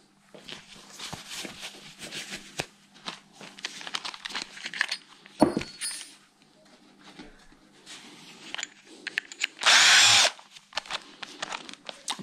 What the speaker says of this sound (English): Ready for the drilling.